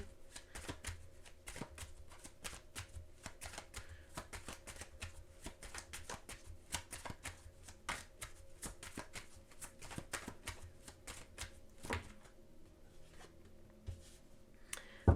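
A tarot card deck being shuffled, with a rapid run of crisp riffling and flicking card sounds repeating close by for the whole stretch, and a sharp snap at the very end.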